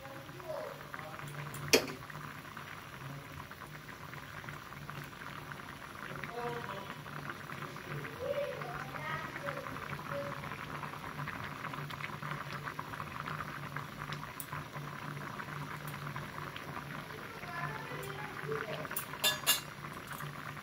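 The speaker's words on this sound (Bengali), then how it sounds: "এখন ঝোলটা ফুটে উঠেছে, এখন জালটা জোরে দিয়েছি" Curry broth boils hard in a pan over high heat, a steady bubbling hiss with faint clinks now and then, close and continuous throughout.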